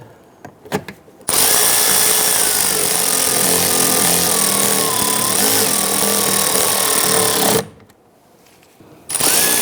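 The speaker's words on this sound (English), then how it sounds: "Install the 3 screws." A power driver runs screws into a 2011-2019 Ford Explorer front door panel, giving a short blip and then one loud sustained whir of about six seconds, followed by a brief final burst.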